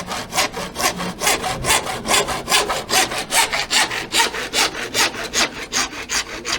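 A handsaw rasps through thin metal roof flashing in quick, steady back-and-forth strokes, about three per second, close and loud with no talking.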